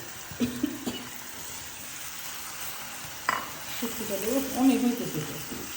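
A spice paste with ground dried fish being stirred and thickened in a pan: a couple of short scrapes, then a longer run of stirring and sizzling near the end, with a voice talking over it.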